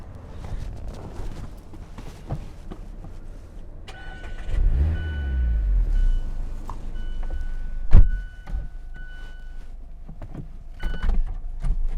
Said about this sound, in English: Got to start it up for that first.